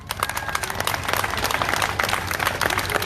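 A Black Lives Matter protest crowd in Portland claps loudly in a thick, rapid patter of many hands, with faint voices mixed in.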